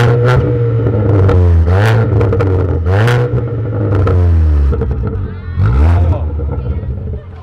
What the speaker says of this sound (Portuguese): Quer que dá uma aceleradinha? Vamos lá, dá uma acelerada, vamos ver.